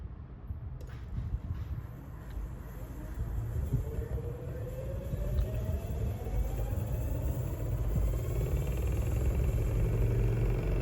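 An electric skateboard hub motor accelerates to maximum speed with a smooth throttle, a rising whine climbing gradually in pitch over a low rumble that grows louder and stays near and continuous.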